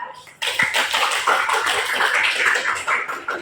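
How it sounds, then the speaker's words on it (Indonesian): Classroom applause for a student group after a presentation on a spring-stretching experiment, dense broadband clapping from many pupils starting abruptly and continuing steadily and fairly loud throughout. "Oke, tepuk tangan untuk kelompok 2."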